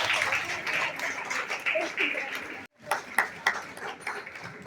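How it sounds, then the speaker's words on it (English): An audience at a school annual function prize giving claps in a dense, steady wash, broken by a brief dropout, then resumes more thinly with a few sharper claps and voices. "please keep clapping"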